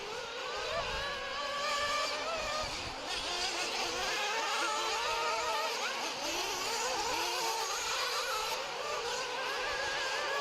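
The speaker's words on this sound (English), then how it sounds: "You can hear the brop, brop, brop. They're just warming up the engines." Several nitro RC car engines warm up at dirt race practice, a steady, loud high-pitched buzzing drone with rising and falling revs and overlapping engines throughout.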